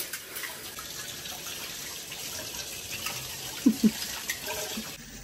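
A kitchen tap runs steadily while dishes are washed. The water makes a constant close hiss, and a couple of soft knocks from dishes come near the end.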